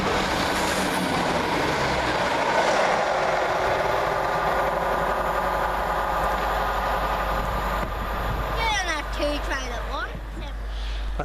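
Train at Barnt Green railway station, a heavy rumble and engine drone holding steady at close range, with a sharp squealing burst of brakes or wheels near the end, under a faint background voice.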